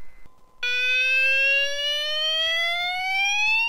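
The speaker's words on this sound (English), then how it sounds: "Welcome to my fire alarm system, what I've installed in my garage to protect equipment and boxes" A garage fire alarm sounder linked to a heat detector begins after a brief low tone. It then holds a loud, steady, piercing electronic wail that slowly rises in pitch, close by and with no voices.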